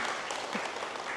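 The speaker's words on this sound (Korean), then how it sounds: "그럼 박수 한번 쳐보세요." Audience applause in a lecture hall, a brief dense patter of many hands clapping at moderate volume, with no voices over it.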